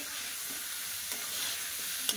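Spice masala fries in a pan with a steady, fairly soft sizzle while a utensil stirs and scrapes it close by. Near the end comes a brief knock against the pan.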